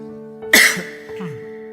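A single sharp cough bursts out, followed by a smaller throaty cough, over a low steady hum.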